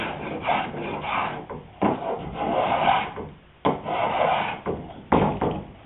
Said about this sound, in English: what I'm doing is planing a little bit off the top edge itself